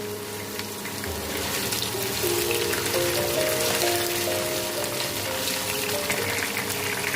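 Squash pieces frying in a pan for a homestyle Bengali dish give a steady, dense hiss and crackle, loud and continuous, with a faint tonal clink early on and no talking.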